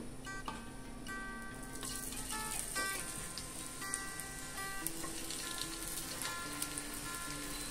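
Ghee sizzles quietly on a heated cast-iron griddle ready for sweet potato slices, a soft, steady crackle with faint ticking pops throughout, no voices.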